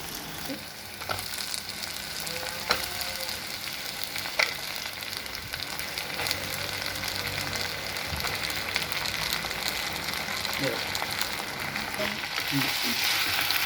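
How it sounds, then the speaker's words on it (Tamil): Brinjal sautéing in a pan, a continuous close sizzle and crackle of frying with occasional soft knocks of a spoon stirring the pieces, steady throughout. "அதுக்கப்புறம் வந்து இதில் கத்திரிக்காயை போட்டு வதக்கிக்கலாம்."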